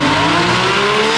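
A Lotus Emira's engine roars hard in a short, loud burst at a hill climb, a steady rising drone with no voices over it.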